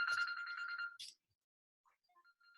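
A telephone rings once with a bright, warbling electronic trill for about a second, followed by a short chirp, then near silence with faint tones.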